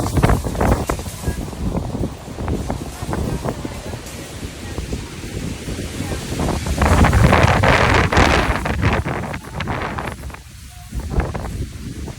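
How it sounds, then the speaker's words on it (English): Strong wind gusts buffet the microphone at an outdoor market, a loud, rough roar that swells and eases and peaks in a heavy gust midway. A voice can be heard now and then under the wind. "Weather says 24-mile-per-hour gusts,"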